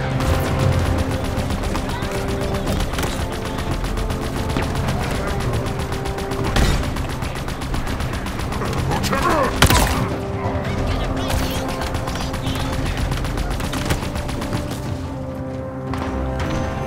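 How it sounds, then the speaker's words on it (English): Sentry turret in Halo Infinite firing in rapid bursts up a hill, with sharp repeated shots over busy game sounds and background music across the whole stretch. "Look, there's a sentry turret up the hill."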